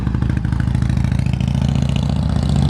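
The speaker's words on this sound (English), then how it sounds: "Guess the only thing I'm going to be getting today is motorcycles." A motorcycle idling close by on a town street, a loud, even, pulsing low engine rumble with a slight clatter throughout.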